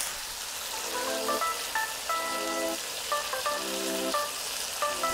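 Tomatoes and olives sizzle steadily in a hot pan, a continuous crackling hiss, while soft melodic tones play in the background.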